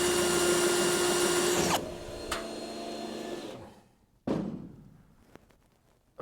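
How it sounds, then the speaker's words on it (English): Drill boring out spot welds on a 1965 Chevrolet C10 floor pan, a loud high whine of the bit biting metal that stops, followed by short revs and clunks of the tool. "I got to drill out all these spot welds that you can't really see"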